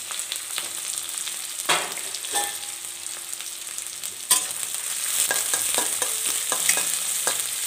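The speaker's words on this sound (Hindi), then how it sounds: "पहले हम प्याज थोड़ा सा भून लेंगे" Onions fry in hot oil for a paneer and peas dish, a soft continuous sizzle with scattered stirring clicks and scrapes, fairly quiet and with no talking.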